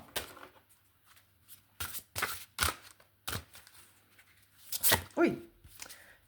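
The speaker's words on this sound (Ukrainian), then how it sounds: "Чекайте, трошки летять карти." Several quick papery riffles and flicks of tarot cards being shuffled, close by, in short bursts with pauses between, ending in a louder flurry.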